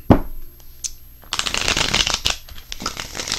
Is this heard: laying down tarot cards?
yes